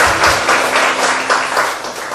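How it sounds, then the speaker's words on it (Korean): Congregation applause at a Friday night prayer meeting in a church: a dense, steady burst of many hands clapping together, loud and close, lasting a couple of seconds with no voices over it. "대박의 박수를 드리겠습니다."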